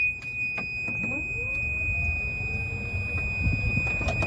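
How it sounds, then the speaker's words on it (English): A Lido golf cart's reverse backup buzzer drones a steady high-pitched electronic beep, a single unbroken tone over faint low mechanical rumble and clicks. "Get your backup buzzer for reverse."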